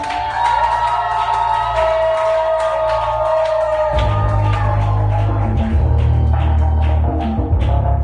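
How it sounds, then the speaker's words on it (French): Church congregation at a French-language service shouting and cheering loudly for Jesus, a continuous crowd roar with music underneath that swells louder midway through. "Si vous voulez crier, vous criez très fort pour Jésus."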